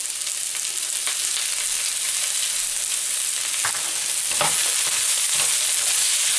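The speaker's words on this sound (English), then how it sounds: "Now onion goes into it." Chopped onion sizzles and fries in a hot pan while mushroom Manchurian is cooked, a loud, continuous crackling hiss with a few stirring scrapes and clatters, no voices.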